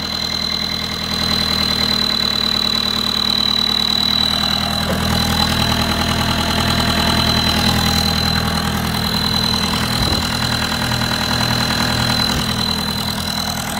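A Kubota tractor's diesel engine idles steadily and loudly up close, with a constant rumbling throb and a high whine running throughout.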